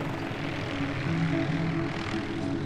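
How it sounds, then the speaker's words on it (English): Helicopter flying over remote rainforest on Maui, its engine and rotor drone steady and continuous throughout, fairly close and loud, with no talking. "The only way that we can get to them is by helicopter."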